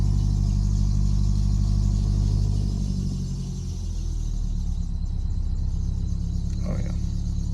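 A Subaru engine idles smoothly after a misfire repair, a steady low rumble close by, with a brief higher whine from the power steering pump near the end.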